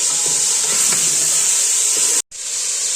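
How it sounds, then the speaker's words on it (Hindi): Ginger-garlic paste frying in oil for beef nihari gives a steady, loud hiss that fills the clip with no talk, broken by a brief silent gap near the end. "1 मिनट पूरा अदरक लहसुन को मैंने भूना है"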